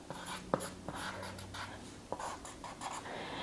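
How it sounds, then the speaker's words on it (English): Pen writing on a paper sewing pattern piece for a stretch knit top: soft scratchy strokes and light taps, quiet and close, with faint breathy sounds in the background. "Then I would write on it that this is the front."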